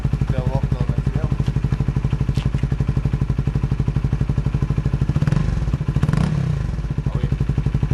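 A Honda CBR 125 motorcycle fitted with an Akrapovic replica exhaust runs close by with a rapid pulsing exhaust beat, then blips its throttle into a couple of louder revs near the end, with a few clattering knocks in between.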